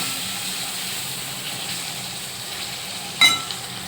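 Onions and turmeric powder frying in a pan, a soft continuous sizzle and hiss while being stirred, with a brief sharp clink of the spoon near the end.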